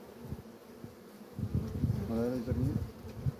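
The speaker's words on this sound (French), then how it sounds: "là encore un frelon asiatique qui arrive" Asian hornets buzz as they arrive at a trap, a faint wavering drone with intermittent knocks and taps against a steady outdoor background, while someone talks briefly.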